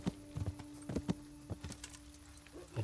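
Horse hooves clip-clop in an irregular rhythm while a horse is ridden in the video game Kingdom Come Deliverance; the hoofbeats are fairly clear and sit over a quiet steady hum.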